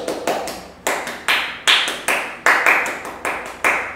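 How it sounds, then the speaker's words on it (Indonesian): Grade 5-6 Pramuka scout children perform the patterned scout clap together, with sharp, unison hand claps in a repeating rhythmic sequence of quick pairs and single beats, loud and close. "Sebelumnya kita tepuk pramuka dulu ya."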